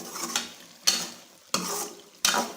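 Guar bean and meat curry frying in a pan, with four sharp stir strokes at regular intervals over a continuous soft sizzle. Close and fairly loud, with no voices.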